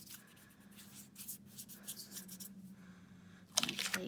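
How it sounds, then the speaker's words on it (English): Paper being rubbed by hand during inking for heat embossing with butterfly stamps, soft repeated scuffing strokes up close, ending in a louder burst of rustling. "I'm just going to rub it again."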